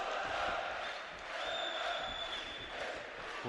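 Spectators at the 2011 AIBA World Boxing Championships in Baku cheering a bout, a continuous murmuring roar with scattered shouts swelling and easing, heard behind a commentator speaking.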